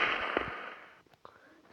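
TNT blocks in a video game, set off with redstone, burst in a loud blast that fades into a decaying rumble, followed by a couple of smaller sharp pops.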